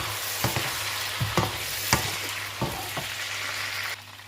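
Eggplant sautéing in oil in a pan, a steady close sizzle with periodic clinks and scrapes of stirring, the frying dropping away briefly at the end.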